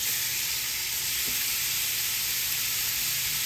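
Flounder fillet sizzling on a hot grill, a soft, steady hiss with no talk and no other sounds.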